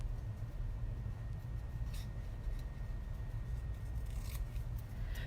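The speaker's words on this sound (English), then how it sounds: "almost done fussy cutting" Scissors fussy cutting paper for card making, faint snips and rustles over a constant low rumble and hum, with no one talking.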